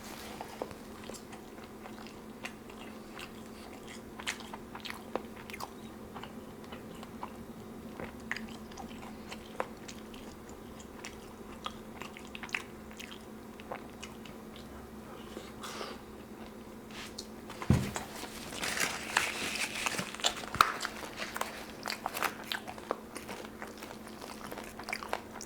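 Close, quiet chewing and biting of loaded steak supreme fries and tacos, with scattered soft crunches and wet mouth sounds over a low hum that grow busier toward the end.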